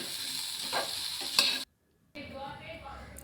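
Okra with turmeric fries in oil on high heat, a close hissing sizzle with brief stirring scrapes, then cuts out to a moment of silence before the sizzle resumes more softly, with no one speaking.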